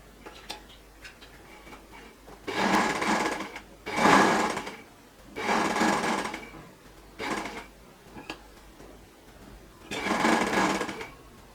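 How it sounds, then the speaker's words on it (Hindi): A sewing machine stitches a neck piece and buckram onto a shirt in five loud bursts of rapid whirring, separated by short quiet pauses with faint clicks, close by and with no talking. "अब हम इसे सिलाई लगा लेते हैं।"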